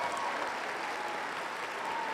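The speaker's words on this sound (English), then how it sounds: "Let's give these intermediates a big round of applause." Audience applause for intermediate market hog showmanship contestants at a county youth fair, an even, sustained round of clapping from a crowd, moderately loud and unbroken.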